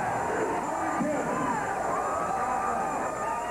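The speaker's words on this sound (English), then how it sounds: "The crowd going crazy is Strydom" A crowd at the 1987 Night of the Champions bodybuilding contest cheers and whoops loudly as a competitor leaves the stage. The roar is sustained and dense, with a voice talking over it.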